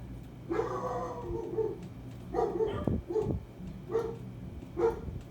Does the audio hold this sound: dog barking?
yes